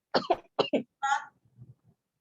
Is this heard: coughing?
yes